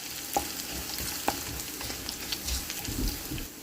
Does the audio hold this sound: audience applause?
no